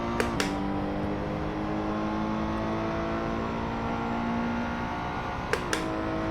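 Race car engine droning steadily on the Kemmel straight in a sim racing game, a sustained mid-pitched tone that slowly sags, with brief sharp clicks near the start and end, no talk.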